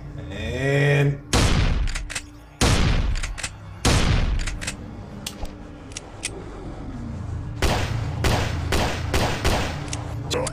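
Many gunshots in the VR game Survivor: Experience, loud and close: a string of sharp single shots in the first half, then rapid overlapping bursts toward the end.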